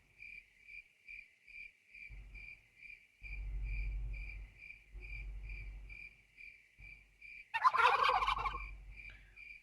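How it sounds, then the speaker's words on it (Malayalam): A turkey gobbles in the survival video game Last Day On Earth, a brief burst near the end over a steady insect-like chirping ambience and low thumping game sounds. "അടി കൊണ്ട് ഓടിപ്പോയി ടർക്കി."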